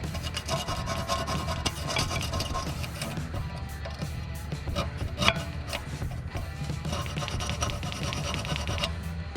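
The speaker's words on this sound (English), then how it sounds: "So you just get a flathead screwdriver and just scrape it off." A flathead screwdriver scrapes corrosion off a Volkswagen rear brake caliper, giving a continuous close gritty rasping with small quick strokes and occasional sharper scratches.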